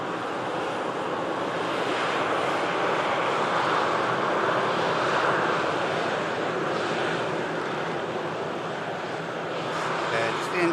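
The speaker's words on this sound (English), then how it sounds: "This aircraft coming in from Geneva lever, A320, Uniform Kilo, UK. A 13-year-old airframe touching down nicely." A 13-year-old Airbus A320 arriving from Geneva lands, heard as a steady, broad roar of jet noise that holds at a constant loudness throughout, somewhat distant and mixed with wind.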